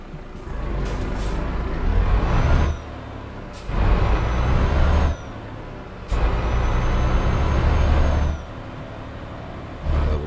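A Volvo truck driving in Euro Truck Simulator 2, with a steady engine drone that swells in louder stretches as it accelerates and shifts, sharp air-brake hisses in between.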